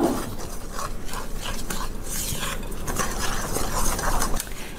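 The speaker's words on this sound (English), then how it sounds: "And now I'm going to add the wet ingredients to those dry ingredients. And I'm going to stir this up." Wet and dry whole wheat muffin batter ingredients are stirred together in a bowl, giving a close, continuous scraping and sloshing with rhythmic strokes.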